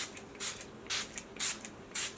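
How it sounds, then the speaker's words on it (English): Makeup Forever Mist and Fix setting spray hisses in four short, even pumps close to the mic, each a bright airy burst separated by brief pauses. "I'm finishing my look off with my Makeup Forever Mist and Fix"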